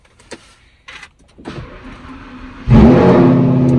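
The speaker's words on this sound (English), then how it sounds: "I'm gonna turn on the car right about now." A Lamborghini cold-starts with a loud bark at about 2.7 s, then settles into a steady, loud, full idle. Quieter clicks and faint rustling come before it.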